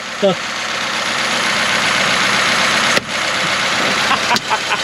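Pontiac Straight 8 engine, 51 years unused, idling slightly choked, a steady close mechanical rumble with a few sharp pops and clatters, under brief speech from a man.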